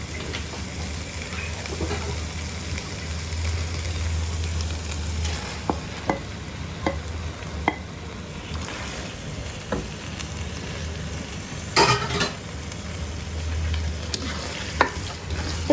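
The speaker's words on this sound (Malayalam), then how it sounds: "ഇനി നമുക്ക് ഇതിലേക്ക് നമ്മുടെ മാരിനേറ്റ് ചെയ്ത് വെച്ചിരിക്കുന്ന ചിക്കൻ ഇട്ട് കൊടുക്കാം." Marinated chicken fries with softened tomatoes in a pan for Thalassery dum biryani, a continuous sizzle broken by repeated scraping strokes of a spoon stirring, close up and moderately loud, with no voices.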